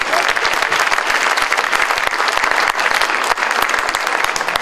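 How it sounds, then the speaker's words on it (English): An audience at a county promenade event bursts into loud, close applause, a thick stream of rapid claps that holds steady for several seconds. "Round of applause for Bo Carson."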